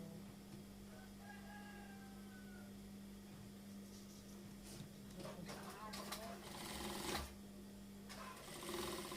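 A sewing machine stitches along the edge of stiff fabric while attaching a folded cuff on a Kasumedangan garment, giving a faint, steady motor hum under ongoing talk that grows slightly busier toward the end.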